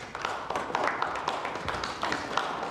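Continuous applause from many hands at the inter-Korean summit signing ceremony for the September Pyongyang Joint Declaration, a dense, even patter of clapping that carries on throughout without a break.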